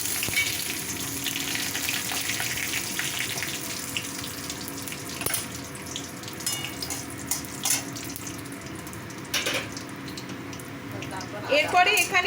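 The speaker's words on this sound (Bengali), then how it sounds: "একটুখানি শুকনো লঙ্কা আর গরম মশলা এটাতে ফোড়ন হিসাবে তেলটার মধ্যে দিয়ে দেওয়া হলো।" Dried red chilies and garam masala hit hot oil as a tempering for a Bengali green coconut paneer dish, giving a steady, moderately loud sizzle with occasional clinks and scrapes, ending in a few louder knocks.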